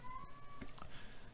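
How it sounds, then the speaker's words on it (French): A cat meows faintly in the background with a thin drawn-out cry, under a low room hum and muffled noise, while a person is presumably nearby. "désolé pour le chat d'ailleurs"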